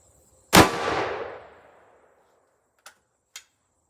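A single loud .444 Marlin rifle shot fired into a gel block, sharp and close with a long decaying echo, followed by two faint clicks.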